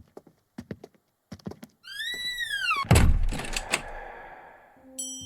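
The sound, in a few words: stuck door being forced open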